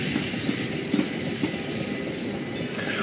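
A class 377 electric train in Train Simulator 22, running on the line between Portsmouth and Havant, gives a steady rolling rumble and hiss, with faint rhythmic clicks from the wheels.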